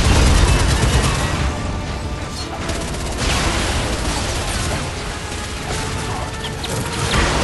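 Gunfire in a capture-the-flag video game played on the Eucadia Northern Bridge map, with dense overlapping shots and chaotic noise forming a continuous loud barrage that barely lets up.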